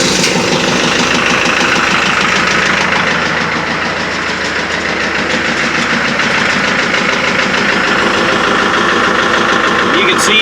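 Kubota MX5200 tractor diesel engine running at a steady, loud idle close by, a continuous rough mechanical drone with knocking vibration, after a transmission and hydraulic service.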